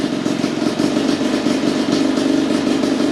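A 2021.5 GPX Moto TSE250R motorcycle fitted with a Keihin PWK 38 carburetor and jet kit idles steadily and close up, a continuous low rumble with fast even firing pulses and no talk over it.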